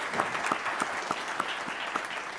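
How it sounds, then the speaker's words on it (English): Steady applause from a group at a board meeting, a dense patter of claps continuing throughout without a break. "Let's give Ms. Andrews a round of applause."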